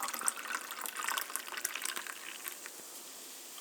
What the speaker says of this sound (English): open up this unsweet Blackberry Hibiscus Carbonated Water and pour it into this glass